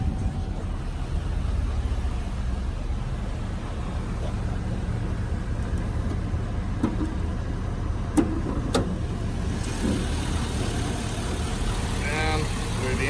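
A 2004 Chevrolet SSR idles quietly and evenly, a low steady engine hum running throughout with a few faint clicks and rattles on top.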